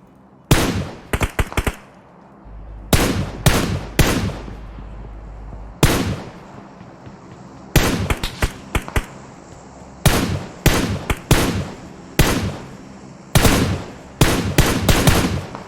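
Loud, close gunfire in a shooter video game, coming in repeated bursts of rapid shots separated by short pauses, each burst cracking sharply over a quiet background, with no speech.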